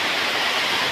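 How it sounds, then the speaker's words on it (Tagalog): A brief, loud, continuous roar of strong typhoon wind, a dense broadband rush with no gaps and no speech. "Grabe, lakas ng hangin."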